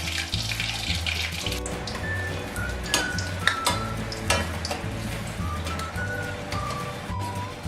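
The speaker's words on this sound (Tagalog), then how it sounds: "ipa-fry ko na medium-high heat hanggang sa maging crispy yung labas" Thick-cut potato fries frying in oil over medium-high heat, with a steady broadband sizzle and bubbling throughout, occasional light stirring clinks, and a low hum from a nearby appliance; no talk.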